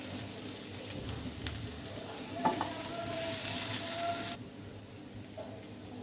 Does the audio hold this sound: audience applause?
no